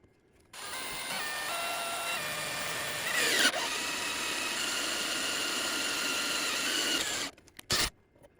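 A spade-type drill bit bores through a piece of plastic with a continuous close whine and grind that lasts about six seconds. The pitch shifts briefly midway, then it cuts off, and a short burst follows. No speech.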